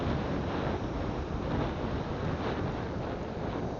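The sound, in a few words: strong wind at seaside fishing spot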